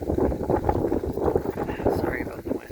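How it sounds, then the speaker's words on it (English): Heavy wind buffets the microphone, a continuous low rumbling roar that masks a voice speaking underneath. "Sorry about the wind."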